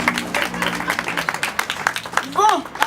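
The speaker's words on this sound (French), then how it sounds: "On applaudit Charlotte Auguste," An audience at a salon's inauguration event applauds in a dense, steady patter of clapping, with a voice speaking over it near the end.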